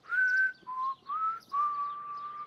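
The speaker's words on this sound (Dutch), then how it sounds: "Fluiten vergt veel oefening." A person whistles through pursed lips in four sustained tones with short gaps between them, clear and close with nothing else around.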